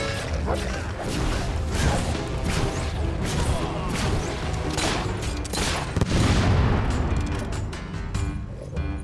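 Gunfire rattles in the video game Fable III, a dense, continuous barrage of shots and blasts with no pause, mixed with loud battle noise and voices.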